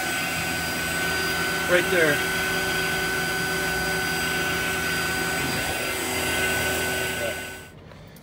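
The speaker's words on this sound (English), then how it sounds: "that's with the field piece 8 CFM vacuum pump, the VP85" Fieldpiece VP85 8 CFM vacuum pump running on a freezer refrigeration system, a steady loud mechanical hum with whine, continuous for several seconds before cutting off, with brief talk over it.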